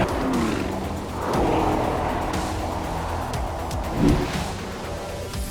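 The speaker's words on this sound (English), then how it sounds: "There's an exhaust flap on each tailpipe that modulates the sound depending on load and rev speed." An Audi Q8 facelift accelerates, its engine and exhaust, with a flap on each tailpipe, roaring steadily with swelling surges and a louder burst near the end; no talking.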